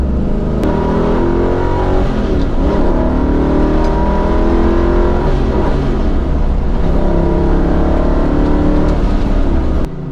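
A road-racing car's engine, its clutch running hot and held in third gear through the first turn, drones loud and close without a break, rising and falling slightly in pitch with no voices over it.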